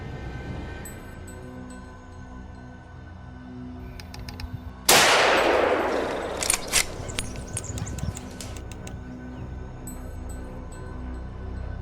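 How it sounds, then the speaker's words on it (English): A single loud gunshot rings out during a wild boar hunt, a sharp crack midway followed by a decaying rumble and a few clanking knocks against a quiet outdoor background. "I quickly opened fire and took down this boar"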